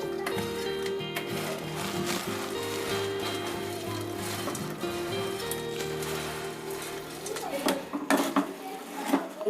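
Fried boondi being added to sugar syrup in a pan, heard as continuous metallic clinks and scraping of a ladle and vessel with a pattering, rain-like rustle, close and fairly steady throughout.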